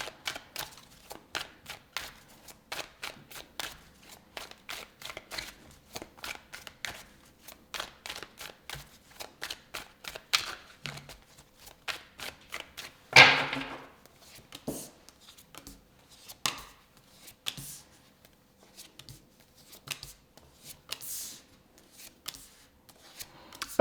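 Tarot cards being shuffled by hand, a steady stream of soft riffling flicks and slaps with a louder thump midway, continuing close and clear without talk.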